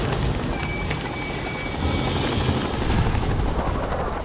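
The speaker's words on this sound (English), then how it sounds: "I hear explosions." Dense, rumbling booms and crackling blasts from the video game Fallout 3 pile up continuously, loud and chaotic with no clear pauses.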